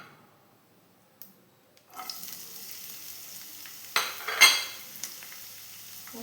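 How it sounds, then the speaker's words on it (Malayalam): Chopped onions dropped into hot coconut oil in a pan start a soft, close sizzle that hisses steadily after a quiet start, with a couple of louder bursts as they are stirred, and no talk. "ഞാൻ കുറച്ച് വെളിച്ചെണ്ണ ഒഴിച്ച് കൊടുക്കുന്നുണ്ട്. അതിലേക്ക് ഉള്ളി ഇട്ട് കൊടുക്കണം."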